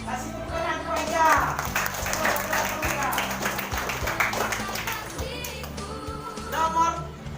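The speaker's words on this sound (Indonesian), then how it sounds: "Kasih tepuk tangan kepada." Pupils in an Indonesian primary classroom clap for a classmate during a maths lesson on shapes, a short burst of hand claps mixed with children's voices and a teacher speaking over them.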